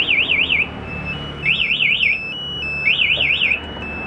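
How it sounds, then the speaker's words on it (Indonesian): A Yamaha NMAX motorcycle's security alarm wails, warbling in three short bursts with brief pauses between, loud and close. "Jadi pencetnya gembok tutup, mesin mati, alarm bunyi."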